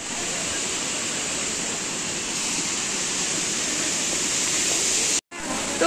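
The Dhokane waterfall and a river near Almora give off a loud, steady roar close by that continues unbroken apart from a brief cut near the end.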